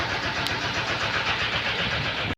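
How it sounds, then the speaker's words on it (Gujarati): A freshly serviced tractor engine starts and runs with a steady, loud, rough mechanical rumble for about two seconds, then cuts off abruptly. "આપણે આપણું ટ્રેક્ટર લઈને અહીંથી રવાના થઈ જઈએ."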